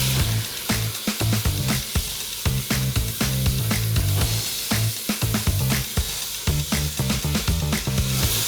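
Half a kilo of minced meat browns in a hot pan, a loud, continuous close sizzle with faint stirring scrapes running through it, no voices.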